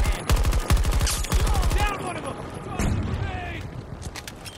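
Gunfire in the video game Battlefield 2042, loud rapid bursts of automatic shots in quick succession, then scattered distant shots and booms as someone talks.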